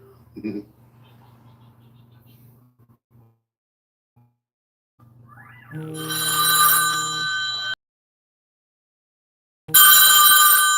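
An old-style telephone rings in two loud bursts, the second starting after a short pause. Each burst is a harsh, rattling bell tone. Brief faint sounds come before the ringing.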